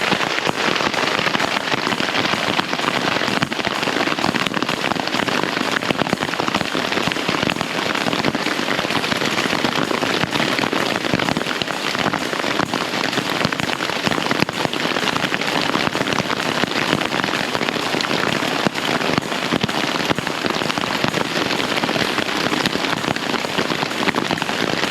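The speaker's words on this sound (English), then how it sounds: "it is hailing like crazy out. Very small little hailstones, but a lot of hail and rain." Heavy downpour of rain mixed with very small hailstones pelting a campsite tent in winter, a dense, continuous loud patter with no pauses and no talking.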